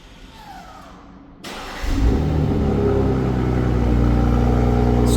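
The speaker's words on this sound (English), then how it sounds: "So that is your remote engine start, cold start sound." A 2026 BMW M340i engine cranks and fires up by remote cold start, revving briefly before settling into a loud, steady idle rumble nearby.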